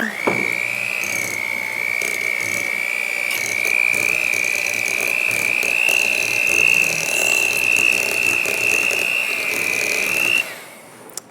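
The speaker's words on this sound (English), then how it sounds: "So I have my little hand mixer, and I'm going to go ahead and cream these together." A small electric hand mixer whirs steadily as it creams ingredients for red velvet cake batter, a close, continuous high-pitched whine lasting about ten seconds before cutting off.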